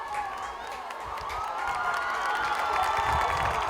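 Spectators at a high school football game, Durfee versus Taunton, cheer and shout in a dense, swelling roar with distant voices and whistles blending together, growing slightly louder toward the end.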